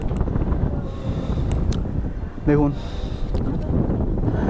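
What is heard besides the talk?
cold wind blowing on a hilltop viewpoint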